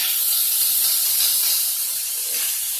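Sausages begin cooking over lower heat in a pan with a tablespoon of olive oil, producing a loud, continuous hissing sizzle that swells slightly and then eases.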